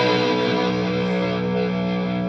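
An electric guitar runs through an Azor Cattle Fuzz pedal, giving one thick, sustained distorted chord with steady hiss, loud and alone.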